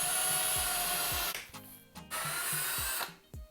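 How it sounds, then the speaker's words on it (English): A power drill bores a pilot hole in wood while building floating shelves on a bathroom vanity, whirring loudly and steadily at close range, cutting out briefly near the middle and again near the end. "I'm just going to drill a pilot hole."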